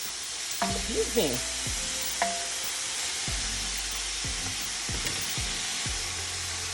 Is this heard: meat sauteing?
yes